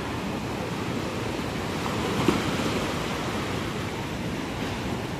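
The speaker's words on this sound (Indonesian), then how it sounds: "ombak pantai selatan itu terkenal ganas" Ocean surf on a south coast beach in Kebumen, where a river meets the sea, roars as a steady, dense wash of waves, loud and continuous with no distinct breaks and no voices.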